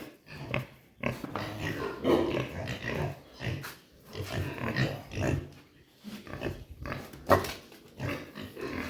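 Native pigs on a Philippine smallholder farm, including a pregnant sow, give repeated grunts and snorts in uneven bursts at close range, with farmyard rustling and no talk.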